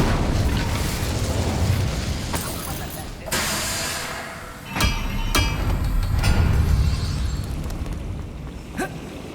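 Incendio fire spells cast in Hogwarts Legacy burst out as several sharp whooshing blasts and pops over a rumbling, crackling game soundscape, with a voice speaking in between.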